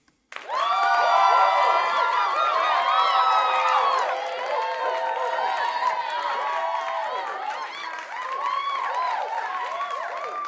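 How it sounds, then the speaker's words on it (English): A crowd at a Steelers post-game show gives a round of applause for Jaylen Warren, loud whoops and cheering voices rising and falling over the clapping, sustained and close. "Let me give that man a round of applause."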